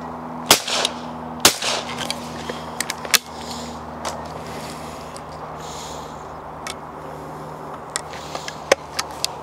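A .410 shotgun fires at clay targets outdoors, two sharp cracks close together near the start and a third shortly after, with a few fainter clicks and pops later over a low steady hum.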